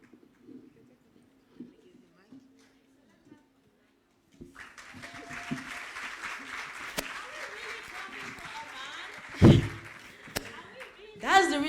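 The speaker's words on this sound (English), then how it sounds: "your claps were not as loud for the girls as it was for the guy" An audience at an International Women's Day 2022 gathering in Freetown breaks into sustained applause after someone speaks, and the clapping stays fairly steady with a few louder bumps and some voices underneath.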